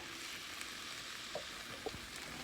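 Ground meat browning in a pan for chili corn soup, a steady soft sizzle and fry with a few faint scrapes from stirring, close and fairly quiet, no voices.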